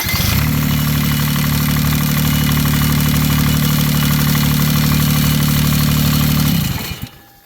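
A John Deere 420 tractor fitted with a Kubota diesel engine runs at a loud, steady drone with a strong low hum, then shuts down and fades out in the final second.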